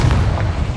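A short, heavy explosive blast from the Confringo spell in Hogwarts Legacy, a single deep booming burst with a loud low rumble that fades quickly.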